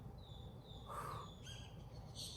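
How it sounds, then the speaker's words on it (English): Birds call faintly in the distance, a few short, thin chirps and one harsher caw over a low background hum. "listen to the birds."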